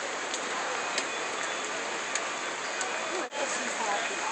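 Heavy rain pours during a flash flood in Manitou Springs, a dense, unbroken hiss that stays loud and even throughout.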